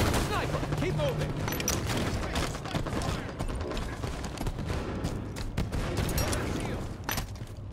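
Scattershot fire and other gunfire from the Halo 5 video game form a dense, continuous stream of weapon blasts and mechanical clatter, with voices talking over the steady chaotic din.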